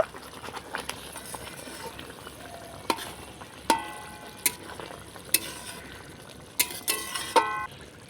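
Egg and onion being stirred with chopped coriander in a pan, a steady low sizzle broken by sharp spatula scrapes and clinks against the pan, several distinct strokes spaced a second or so apart, close and clear.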